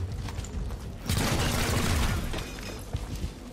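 Rapid bursts of gunfire from a squad battle in the video game XCOM: Chimera Squad, a dense rattling fusillade with booming impacts that swells midway and tails off into scattered shots.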